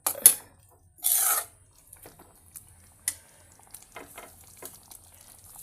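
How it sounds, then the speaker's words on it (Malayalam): A spoon scrapes and stirs prawn roast curry in a pan, a few separate scraping strokes and light clinks with soft sizzling between, with no talk. "നന്നായിട്ട് ഇളക്കി കൊടുക്കാം"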